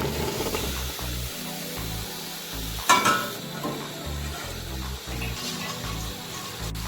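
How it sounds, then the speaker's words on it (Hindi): Chopped cauliflower and potato tipped into a hot cooking pot, setting off a steady sizzle and frying crackle with a sharp clattering tumble partway through, no talking. "अब मैं इसमें एक कटी हुई सब्जी डाल दूंगी।"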